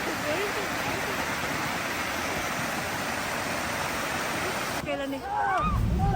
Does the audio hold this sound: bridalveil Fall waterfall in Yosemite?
yes